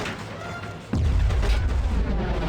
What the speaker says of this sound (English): this rocket launcher can even fire nukes